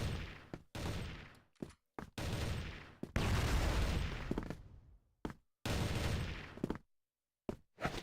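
Orb shots in the CrossFire video game fire as loud, choppy bursts of gunfire, several rapid volleys broken by short silences, close and dominant with no talk.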